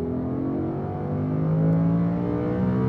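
A Lamborghini Huracan on a race track at Speed Vegas accelerates hard at full power, its engine droning steadily loud and close with rising harmonic tones throughout.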